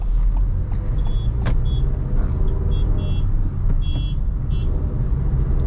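A Honda Elevate manual cruises at 100 km/h in sixth gear on the highway, giving a steady, loud low road and engine rumble inside the cabin, with small clicks and squeaks over the drone and no voices.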